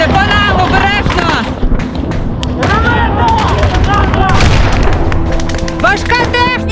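Combat near Avdiivka with gunfire and tank fire: dense, continuous bangs and booms under frantic shouting voices, loud and close, with chaotic overlapping noise throughout.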